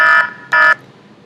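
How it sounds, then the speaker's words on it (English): An alarm sound effect from iMovie's built-in library plays back as two loud, short electronic buzzer tones with a brief gap between them. "like this is the alarm."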